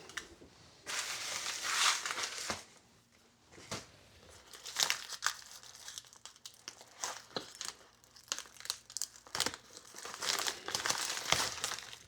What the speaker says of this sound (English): Let's open the envelope.